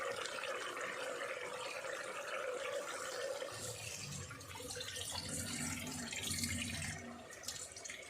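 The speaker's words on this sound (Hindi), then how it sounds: "दाल का पानी गिरा देंगे।" Soaking water is poured off urad dal in a home kitchen, a soft steady trickle and splash of liquid heard faintly and alone.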